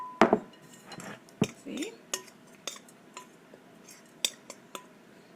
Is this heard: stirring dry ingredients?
yes